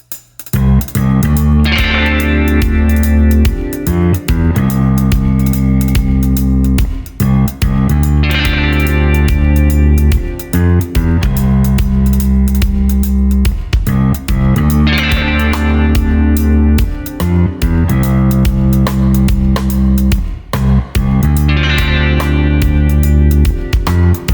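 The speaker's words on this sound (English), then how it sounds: "So this is a much more subtle delay and it's more modulated than the previous one." Electric guitar plays a riff through a subtle, modulated delay, repeating chord stabs and echoing notes in a steady loop, loud and continuous with no talking.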